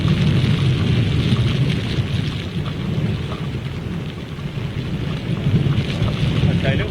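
Storm Francis drives wind and rain across Heathrow Airport, a continuous heavy roar and gusting rumble buffeting the microphone throughout, with no clear breaks.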